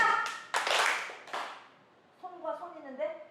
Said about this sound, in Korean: 다시 한번 손뼉 짝!